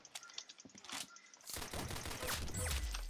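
Pistol shots in the Roblox shooter Arsenal, in a pistols-only match: a few quiet, scattered shots at first, then a louder burst of overlapping fire that builds toward the end, with a low rumble rising underneath.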